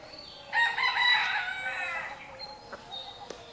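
A rooster crows loudly and close by on a rural homestead, its long call rising and falling over about two seconds, then a few short clucks from the chickens follow more quietly.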